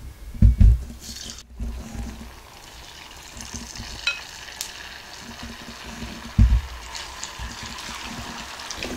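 Battered cauliflower pieces dropped one by one into hot oil for gobi manchurian, giving a steady close sizzle and bubbling with a couple of louder splashy bursts as pieces go in.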